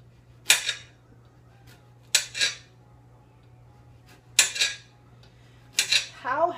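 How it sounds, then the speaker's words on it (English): A knife chops zucchini on a cutting board in four separate sharp knocks spaced a couple of seconds apart, each a crisp close tap with a short scrape, over a faint steady hum and otherwise quiet room. "So I guess I'll cut the zucchini first,"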